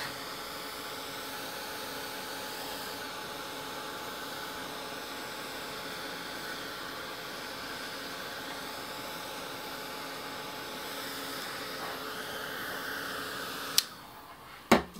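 A heat dryer blows a steady, even whoosh for about fourteen seconds while ink dries on a card, then shuts off, followed by a couple of sharp handling knocks.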